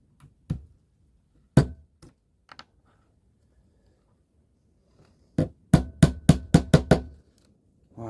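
Sharp taps on an OO gauge model railway track sleeper, scattered single knocks at first, then a quick run of five or six close, crisp taps, all in a quiet room.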